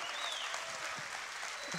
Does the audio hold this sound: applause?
yes